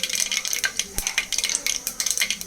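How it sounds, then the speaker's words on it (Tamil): Mustard and fennel seeds splutter in hot oil with curry leaves for a mutton curry, giving rapid crackling pops and a light scrape of stirring, close and fairly loud with no one talking. "சோம்பு பொரியட்டும்."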